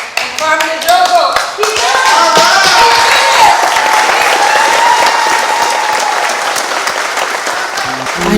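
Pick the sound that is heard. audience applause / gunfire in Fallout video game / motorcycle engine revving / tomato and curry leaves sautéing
audience applause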